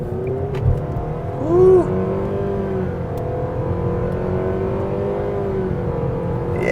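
A 2024 Nissan Sentra SR accelerating on a multi-lane road, its engine droning steadily and rising in pitch as it pulls, heard from inside the cabin, with a brief exclamation from the driver.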